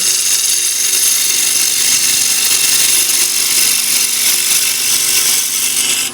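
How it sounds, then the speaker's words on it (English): A wood lathe spins a bowl blank while a 3/8 detail gouge cuts it, producing a loud, continuous, close-up shearing hiss and hum that holds steady throughout. "I'm going to refine that with a 3/8 detail gouge"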